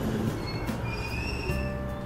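Train pulling into a station in the Persona 5 Royal video game, a steady rumbling rail roar with brief high wheel squeals and tonal whines, loud and continuous with no talking.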